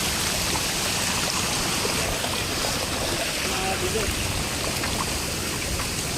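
Floodwater runs through a village in Gurdaspur after severe flooding, a steady broadband rush that stays even and close for the whole stretch, with no voices over it.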